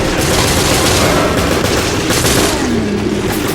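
Rapid gunfire from the video game Resident Evil Revelations, loud and dense throughout, with overlapping shots and booms.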